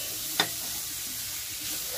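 Banana heart sisig frying in a pan, a soft steady sizzle with one sharp stir or clack early on, close by and without talk.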